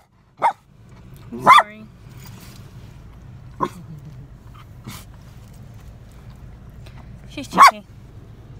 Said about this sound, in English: No barking. That's bad.